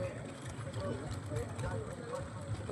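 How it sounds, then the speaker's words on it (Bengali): A boat crosses a river toward the near bank, its low engine drone rumbling steadily at a distance beneath a person talking. "নেজাটপাট থেকে একটি বোট আসছে এপারে"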